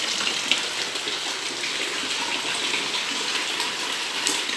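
Heavy rainwater gushes and splashes in Maceió during a downpour, a dense, steady, hissing rush of water close by that stays loud and even throughout, with no talking.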